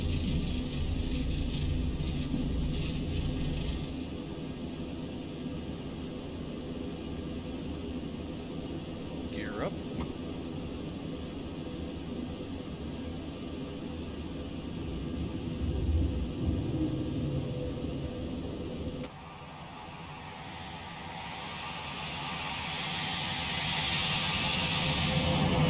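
Boeing 727-200 jet engines on the takeoff roll in X-Plane 11 build a steady, loud roaring rumble with a whining hiss, shifting in tone near the end as the aircraft rotates; a voice talks over it.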